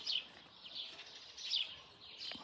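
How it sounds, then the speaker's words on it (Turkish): Small birds chirp and tweet in short bursts near a balcony with mulberry trees, fairly close but soft, the calls repeating every second or so over quiet background, with no speech. "Şimdi bu kuşlar ne yapacak biliyor musunuz?"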